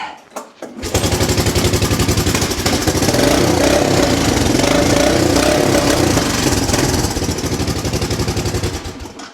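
A small motorbike engine is pull-started, sputters briefly, then settles into a loud, steady buzzing idle close by that holds for several seconds, with no talk over it.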